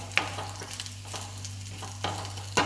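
Chinese potato sizzles softly in oil with crushed garlic, a low steady fry broken by a few sharp stirring clicks and scrapes, close and fairly quiet, with no voices.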